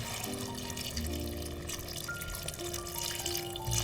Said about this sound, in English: We send the sliced potatoes into the pan and fill it with water.